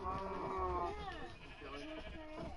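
Sheep bleating in the Minecraft video game, a few wavering bleats up front and again toward the end while someone talks over them.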